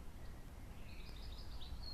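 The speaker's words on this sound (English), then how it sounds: "quiet birdsong echoes across the fields" Quiet birdsong in a summer garden, a few faint, distant chirps and thin whistles over a soft, still background.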